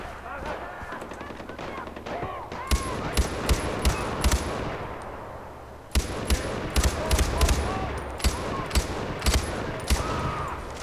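Far Cry 4 gameplay gunfire: repeated sharp shots and short bursts ring out across the whole stretch, loud and close, with denser volleys in the second half.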